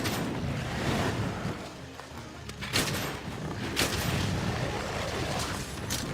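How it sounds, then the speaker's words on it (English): Rapid, dense gunfire from Monster Hunter World hits the monster Barroth, sharp impacts packed into a loud, continuous volley over rumbling low noise, with no talking. "Our shots rang out true and hit the target with furious might"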